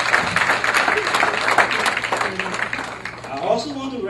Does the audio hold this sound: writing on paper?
no